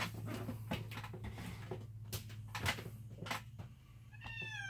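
A black cat gives a short, rising meow near the end, over a steady low hum with scattered knocks and thumps nearby.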